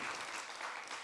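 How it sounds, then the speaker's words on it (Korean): Audience applause greeting a museum director as he comes up to speak at a Korean cultural event, a soft, even wash of clapping that sounds distant and quiet throughout. "뜨거운 박수로 모시도록 하겠습니다"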